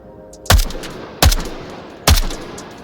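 An AKM rifle in the VR game Onward firing three sharp semi-automatic shots spaced about a second apart, each loud and close with a short decaying tail.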